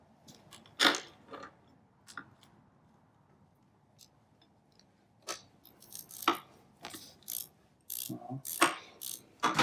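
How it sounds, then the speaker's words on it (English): A ratchet with a 5/8 socket loosens the spark plug on a Yamaha YZ450F dirt bike, giving several bursts of quick clicking pawl strokes, close and clear, separated by quiet pauses. "The Yamaha stuff all takes a 5/8 size plug, so that's a 5/8 socket. Put that in there."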